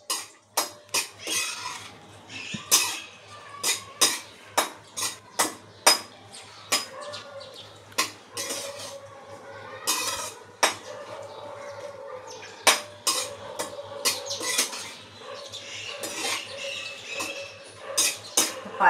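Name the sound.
raisins and dry fruits frying in ghee, stirred in pan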